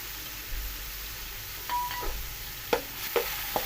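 Garlic and ginger paste fries in a pan for a pea pulao while a spoon stirs it, with a soft steady sizzle broken by a few sharp scrapes and taps of the utensil.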